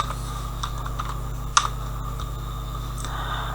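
Someone types a website name on a computer keyboard, producing a quick scattering of soft key clicks with one sharper tap midway, over a steady low electrical hum.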